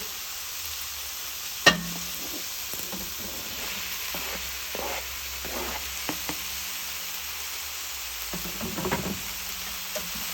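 Carrot, celery and mushroom pot pie filling frying in a pan, with a constant soft sizzle and intermittent scraping strokes of a spoon stirring the vegetables, one sharper clack early on, heard close and fairly quiet.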